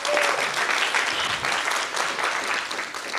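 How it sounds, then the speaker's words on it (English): An audience claps steadily at a live event, a dense and continuous wash of applause that holds for several seconds with no voices over it. "let's give Famika another round of applause"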